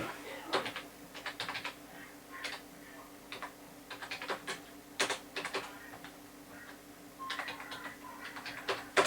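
Computer keyboard typing during a Hero Zero game session: quiet, irregular bursts of key clicks with short pauses between them, fairly close, over a low steady hum and no speech.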